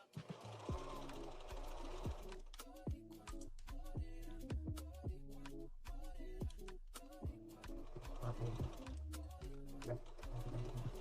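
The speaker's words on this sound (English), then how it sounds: "Just do a zigzag stitch at the bottom." A sewing machine runs a zigzag stitch on a beginner cold-weather accessory, its quiet motor chattering in quick rhythmic bursts with short pauses between runs.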